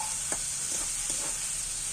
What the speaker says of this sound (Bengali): দেখো মশলাটা ভাজা হয়ে গেছে তেলও ছেড়ে দিয়েছে